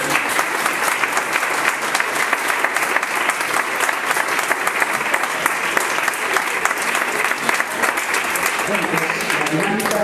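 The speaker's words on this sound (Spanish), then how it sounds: "podríamos empezar pues por darnos un aplauso a todos los que estamos aquí" Dense, steady applause from a conference audience at the opening of the second day of a 2016 event, continuous and loud throughout, with voices mixed into the crowd noise.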